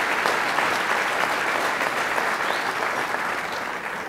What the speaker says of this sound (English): that deserves an applause for America